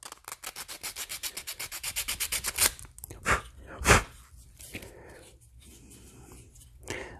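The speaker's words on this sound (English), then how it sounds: "luckily it does not take much to clean that edge up, especially with 80 grit sandpaper" 80 grit sandpaper scrubbing the edge of a Captain Rex Phase 2 armor arm piece, a fast rhythmic run of close rasping strokes followed by a few slower, louder scrapes and pauses.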